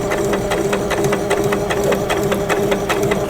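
A sewing machine runs steadily as it stitches a quarter-inch seam along the presser foot edge on an eyeglass or pencil case, producing rapid, even mechanical clatter that sounds close and loud with no talking.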